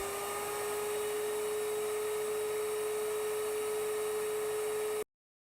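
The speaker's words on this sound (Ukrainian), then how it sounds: "Зараз пилосос включений на одиничку." An HYB XC 188 high-power vacuum cleaner drones steadily on its lowest setting, with a constant whine over broad rushing air, then cuts to silence near the end.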